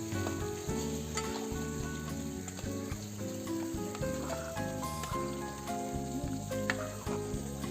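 Gravy sizzles and bubbles steadily in a pan, a constant close frying hiss with faint stirring clicks and no talk.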